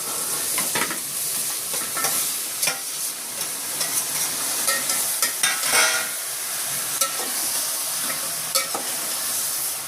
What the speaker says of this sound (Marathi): चिकन टाकून घेते.